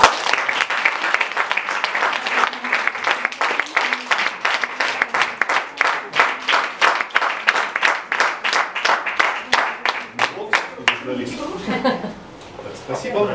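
An audience at a mentoring talk in Voronezh applauds a speaker, loud close clapping that settles into a strong rhythmic beat, then tapers away near the end as a voice begins talking.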